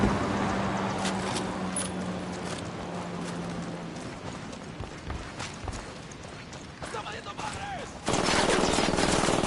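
Gunfire aimed at targets sounds as a dense, continuous clatter of rapid shots filling the whole stretch, growing louder toward the end amid a busy, noisy mix.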